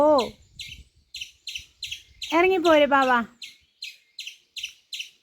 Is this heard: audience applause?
no